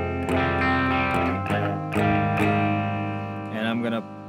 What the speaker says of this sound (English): You can hear the phasers on there.